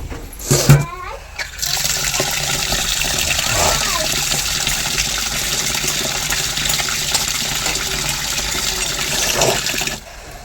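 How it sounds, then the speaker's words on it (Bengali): Rice rinsed in water in a home kitchen, with a steady wash of running and splashing water lasting nearly ten seconds and a few sharper knocks and clatters near the start. "আর চালটা এখন ধুয়ে নিই"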